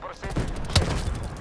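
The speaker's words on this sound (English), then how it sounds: "Throwing Semtex." Semtex grenade exploding in the Call of Duty: Black Ops Cold War video game, a single sharp blast with a low thump about midway, set against dense ongoing gunfire and game noise.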